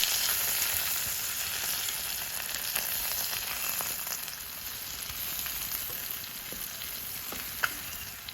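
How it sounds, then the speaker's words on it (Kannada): Tiger prawns fry on a flat tawa with a steady, even sizzle and occasional faint ticks from the pan. "ಟರ್ನ್ ಮಾಡಿ ಇನ್ನೊಂದು ಸೈಡ್ ಫ್ರೈ ಮಾಡಿಕೊಳ್ಳಿ"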